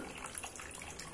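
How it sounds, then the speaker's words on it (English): Water poured through a funnel during a pouring activity for young children, a steady close rushing trickle heard alone without talk. "See, how does the water come from the funnel?"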